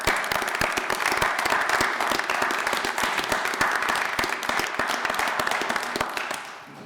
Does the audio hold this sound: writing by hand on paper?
no